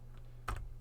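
A single quick keystroke on a computer keyboard, faint and close, a short click against a low background hum.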